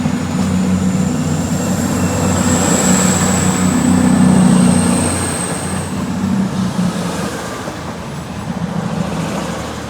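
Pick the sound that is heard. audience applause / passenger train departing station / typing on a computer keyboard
passenger train departing station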